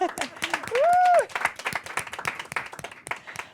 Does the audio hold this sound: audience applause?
yes